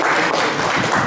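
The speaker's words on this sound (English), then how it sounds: "So a little golf clap for our servers" A short burst of steady clapping from a small group at a dinner with champagne, dense and close, lasting about a second.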